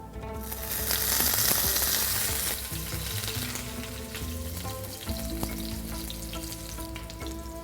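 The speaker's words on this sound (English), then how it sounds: "fry them till they're crisp and golden brown" Kebabs rolled into long cylinders fry in oil with a loud, steady sizzle and crackle, swelling early and then holding at an even level alongside low hum and occasional clinks, with no talk.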